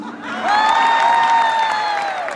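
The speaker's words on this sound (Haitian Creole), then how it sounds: "Applaudissements quand même pour nous." Loud cheering and whooping from a concert audience swell up after a quiet start and hold steady, with light clapping mixed in.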